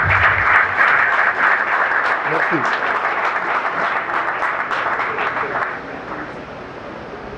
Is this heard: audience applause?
yes